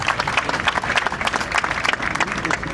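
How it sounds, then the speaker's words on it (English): Audience applause at a large community gathering, dense steady clapping from a crowd, fairly loud and close, with faint voices underneath. "A round of applause for him, please."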